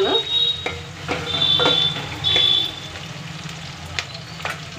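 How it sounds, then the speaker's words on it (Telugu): Carrot pieces frying with tempering spices in a pan, a steady close sizzle with a few brighter crackling bursts and faint clinks of stirring. "పోపులు వేసి వేయించుకున్నాను"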